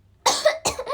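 Two sharp coughs from a young woman, close and loud, in quick succession with a short gap between them.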